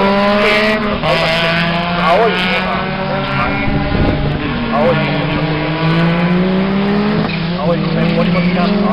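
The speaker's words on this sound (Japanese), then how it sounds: "青いのが森本ちゃん、最終コーナーに中回ってきた" Race cars lapping the Suzuka circuit at an Enjoy Club GP event, with loud, sustained engine whine rising and falling through the gears, passing close by as a commentator talks over the noise throughout.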